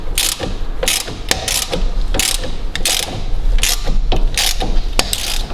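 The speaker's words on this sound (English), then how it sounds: "get my socket on there and just start to slowly wind that back" A ratchet socket wrench winds down the front suspension strut nut on a 2008-2021 Dodge Grand Caravan, giving close, loud bursts of rapid clicking with short pauses between strokes.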